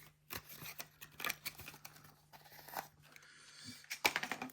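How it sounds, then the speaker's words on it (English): Packaging is pulled off and opened during a Casio ABL-100WE watch unboxing, with a series of close crinkling, snipping and tearing noises in irregular bursts. "Take the packaging off."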